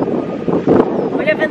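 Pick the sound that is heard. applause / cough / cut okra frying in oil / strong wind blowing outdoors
strong wind blowing outdoors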